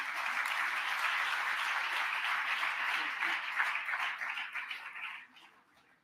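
A large audience at a Malcolm X tribute event claps steadily, a dense wash of applause that holds strong for several seconds before tapering off and fading out.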